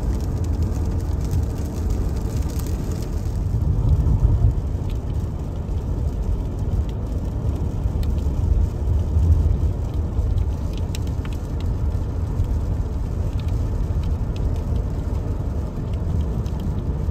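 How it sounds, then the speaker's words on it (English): Rain patters steadily over a low road rumble inside a moving car on a road trip from San Luis Potosí to Monterrey, Mexico, with scattered drips and taps on the body and no voices. "A little bit of rain that we've gone through."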